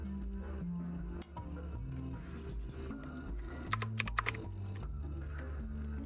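Fast, continuous typing on a computer keyboard during a family-tree puzzle game, with a few sharper key strikes standing out against a dense, droning musical background.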